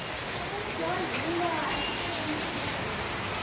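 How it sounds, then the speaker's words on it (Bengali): Rain patters steadily on surfaces nearby in a continuous wash of drops, with faint bird calls in the background. "খুব ভালো বৃষ্টি হচ্ছে"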